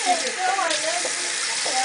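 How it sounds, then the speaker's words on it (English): Warm water poured over a young girl's head during scalp and hair care splashes and trickles in a short, close gush, with a voice speaking over it. "warm water on her head"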